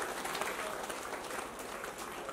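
Audience applause at a Teej festival ceremony, steady dense clapping from a crowd throughout, moderately loud and continuous.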